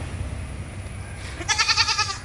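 A milking goat bleats once in a wavering, pulsing call after a quiet stretch of low background hum.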